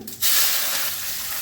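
Prawns hit hot oil seasoned with bay leaves and cumin, a sudden loud burst of hissing sizzle that settles into a steady close frying roar, with no talking.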